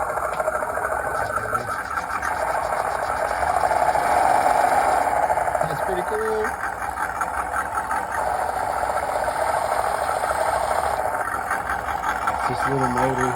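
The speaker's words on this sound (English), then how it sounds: "So let's see our motor turning here." WPL RC truck with a 370 motor and 2-speed gearbox running: a continuous mechanical whir and hum that stays loud and steady throughout, with a voice faintly present underneath.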